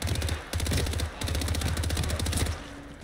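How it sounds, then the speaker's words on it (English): Automatic gunfire in the video game Hitman: loud, rapid machine-gun bursts rattle almost continuously, broken by two short pauses and ending abruptly. "if you find a pile of bodies in an area, don't keep running toward that sound of gunfire"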